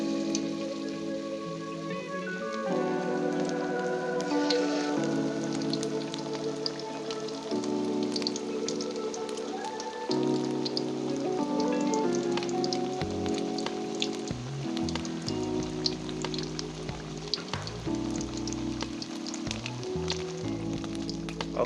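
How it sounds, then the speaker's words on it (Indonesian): Young mango slices frying in hot coconut oil, a steady, rain-like sizzle and crackle running throughout, partly under background music. "Kita masukkan mangga untuk digoreng."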